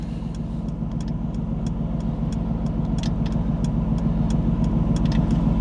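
A car driving home through traffic, with a steady low engine rumble and road hum from inside the vehicle, plus faint periodic ticking clicks above it.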